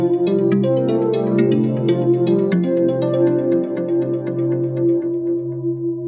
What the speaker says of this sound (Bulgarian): Решавам да не им вдигна и звъненето спира.